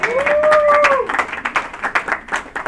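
A church congregation breaks into applause after a sustained vocal exclamation, with scattered close handclaps building into a loose, uneven round.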